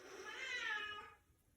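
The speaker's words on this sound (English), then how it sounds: "It seems my cat wants to be part of our yoga practice too." A house cat lets out a single drawn-out meow, rising and then trailing off, close by and moderately loud in a quiet room.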